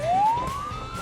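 A fire truck siren on its way to a fire sweeps upward in a single rising wail over a low engine rumble.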